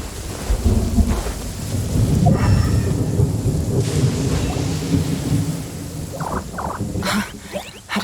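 A thunderstorm with rain in the video game Genshin Impact brings a deep rolling thunder rumble over steady rainfall, loud and close, with sharper patters and crackles near the end.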